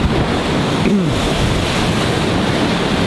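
Ocean waves crash very close by on the shore, a loud continuous churning roar of surf with wind buffeting the microphone and no talking.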